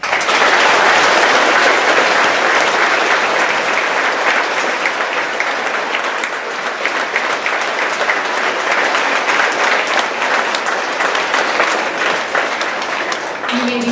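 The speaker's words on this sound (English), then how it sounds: "Would everyone please extend your support to these family members by your applause." A large audience at a Veterans Day program applauds family members of veterans, loud sustained clapping filling the hall for about fourteen seconds with no break.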